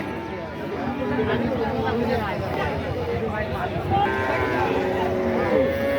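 Cattle moo repeatedly at a busy cattle market after Eid, drawn-out calls from several animals near and far over constant crowd chatter and talking.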